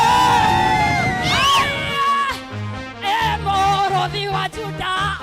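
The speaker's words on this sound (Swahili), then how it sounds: "Shangwe na vigelegele" A church congregation at a Kikuyu service cheers and ululates, with high trilling calls and shouts rising loudly over music with a steady beat.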